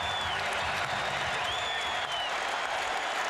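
Basketball arena crowd at a Cavaliers–Pistons game applauding and cheering a blocked shot, a loud, dense, sustained roar of clapping and voices throughout, with faint whistles rising above it.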